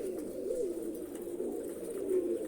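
A lone female pigeon coos close by in a soft, continuous wavering call with no other sound over it.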